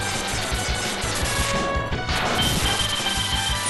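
A glass window shatters in the Mega Man X game, one loud sustained crash of breaking glass with debris clatter lasting several seconds, with no talking.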